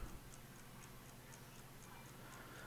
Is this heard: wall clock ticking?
yes